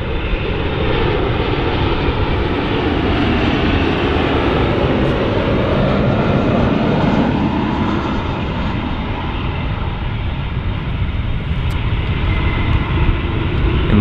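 A German Airways airliner arriving at London City Airport produces a loud, continuous jet engine roar that fills the whole span, broad and steady with a slight swell and fade as it passes, without talk.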